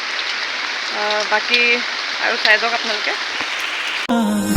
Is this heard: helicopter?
no